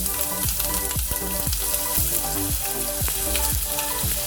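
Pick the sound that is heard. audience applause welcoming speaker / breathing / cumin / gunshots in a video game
cumin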